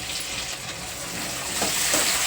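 Tomato pieces drop into a hot pan of golden-fried tempering, bringing a steady, close sizzling hiss that swells slightly toward the end, with no voices.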